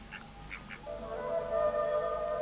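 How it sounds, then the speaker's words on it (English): A pair of Brahminy ducks calls at a high, remote Himalayan lake: a few short nasal honks first, then sustained, droning calls with a brief higher note, moderately close and alone. "a pair of Brahmani ducks that spend most of the year with tigers and crocodiles in the tropical jungles of lowland Nepal"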